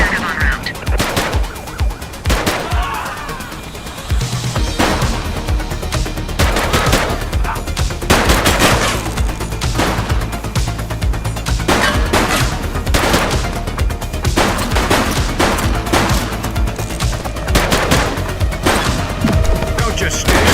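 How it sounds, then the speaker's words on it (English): Rapid bursts of gunfire rattle through a shootout in The Precinct, a top-down police action game, with loud repeated volleys and machine-gun strings packed densely together over a continuous din. "Shots fired."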